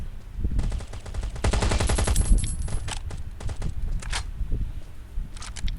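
Rapid automatic gunfire bursts in the survival shooter game Last Day Rules Survival, loud and close, followed by scattered single shots and clicks, with no speech.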